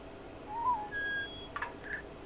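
A loon calls in the video game The Witness: faint, wavering whistled wails rise in pitch in a few short phrases over a quiet ambient bed.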